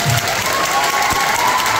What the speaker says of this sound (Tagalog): Yan na ba ang palakpak mo agad?